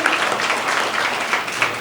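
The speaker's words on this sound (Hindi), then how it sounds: "बच्चों ज़ोरदार तालियां से उनकी हौसला अफजाई कीजिए" A steady round of applause from a crowd at a girls' high school ceremony honoring exam toppers, dense and even throughout with no voices standing out.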